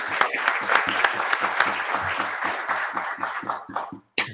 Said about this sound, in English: I think it's appropriate to give Mary a little round of applause